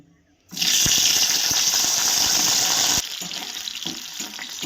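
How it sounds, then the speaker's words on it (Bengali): Loud, steady sizzling of flat beans frying in hot oil, with a few soft knocks and clicks as they're stirred, easing slightly toward the end. "এবার আমি ভেজে নেব সিমগুলোকে"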